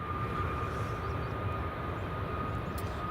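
A departing aircraft at Edinburgh Airport produces a faint, distant, steady engine rumble and whine that holds evenly throughout, with no talking.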